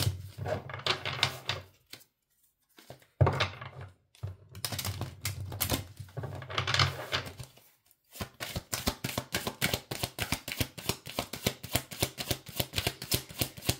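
Oracle cards being shuffled for a reading: soft rustling bursts at first with gaps between them, then a long run of rapid, evenly spaced riffling clicks, close and crisp with no talk.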